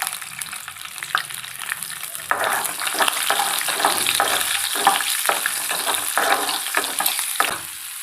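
Garlic and green peas fry in a pan for soya fried rice, giving a close, steady sizzle broken by repeated scraping and tapping as a spatula stirs them.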